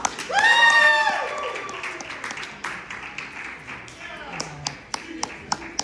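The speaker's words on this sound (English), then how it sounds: "Let's give them a big round of applause." A short whistle rings out, then scattered clapping builds into light applause with sharp individual claps at a college AAPI celebration, fading to a few spaced claps near the end.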